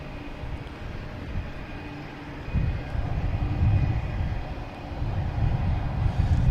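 JetBlue airliner approaching Boston Logan Airport, a distant jet roar that swells and grows louder partway through, steady and rumbling with no voices.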